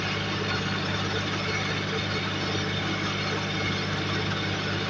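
Steady low diesel drone of a Kubota L3408DI tractor engine running in a field for straw mulching, constant and close with no breaks.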